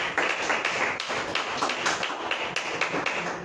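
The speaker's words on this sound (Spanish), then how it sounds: "démosle un fuerte aplauso" A church congregation gives a strong round of applause during a service, with dense overlapping claps that carry on steadily at a moderate level.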